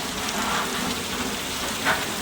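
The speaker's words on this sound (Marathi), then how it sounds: "असं जोरदार पाऊस आणि जोरदार धुवादार बारिश" Heavy rain pouring down in a dense, steady hiss, with no pauses and no voices.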